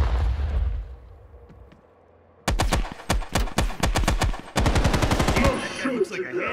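Rapid bursts of automatic gunfire and sharp explosive pops in the Call of Duty: Black Ops Cold War video game, loud and close, starting after a quiet stretch and continuing in dense repeated volleys.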